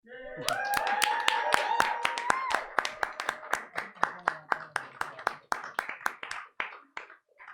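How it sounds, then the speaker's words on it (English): An audience claps for Chloe, starting under a brief voice and dense at first, then thinning to a handful of separate, sharp claps that trail off. "Big round of applause for Chloe, please"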